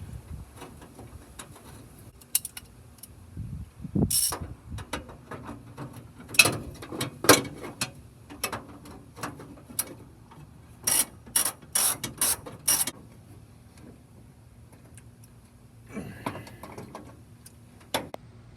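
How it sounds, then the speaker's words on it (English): Ratchet tightening battery tray bolts on a Ford F-100 to F-350 truck, irregular clusters of sharp clicking bursts in a quiet garage with pauses between runs. "Get your 2 bolts started, one on each side."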